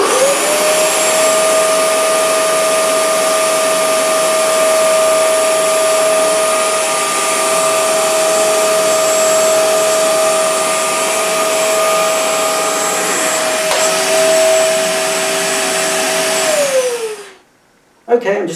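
A Bissell PowerWash Premier carpet washer runs over carpet with a loud, steady, whining motor drone and suction hiss that holds for many seconds before cutting off abruptly.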